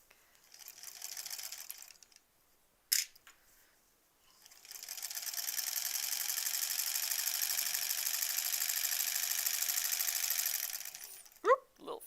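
Sewing machine running a long continuous stitching burst along quilt borders for a granny squares quilt, steady and close, with a shorter run before it and brief clicks and handling noises around the stops.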